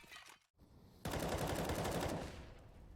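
Automatic gunfire in Counter-Strike: Global Offensive, a short single shot followed after a brief gap by a loud, rapid burst of shots lasting about a second and trailing into echo.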